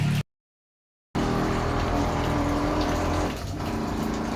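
Ice cream mixture poured in a homemade ice cream business kitchen, a loud continuous gushing pour close up after a short silent break, easing slightly toward the end.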